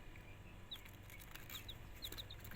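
Light Sussex laying-hen chicks, about three weeks old, give several short high cheeps over a steady low background hum, fairly close and moderately loud.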